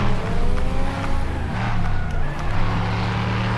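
Race car engine in the driving game Next Car Game: Wrecked, a loud, steady droning roar with shifting pitch as the car struggles through turns, close and continuous throughout.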